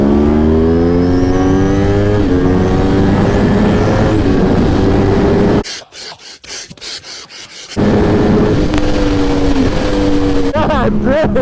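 A Yamaha R1 motorcycle drag races a Corvette C7 Z06: a loud, close engine screams up through rising gears, cuts out briefly mid-run, then roars again. A voice shouts over the engine.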